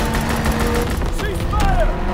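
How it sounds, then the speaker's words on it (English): Strafing run gunfire in Call of Duty WWII multiplayer domination, a loud continuous roar of rapid fire and rumbling blasts filling the whole moment, dense and close. "Strafing run inbound."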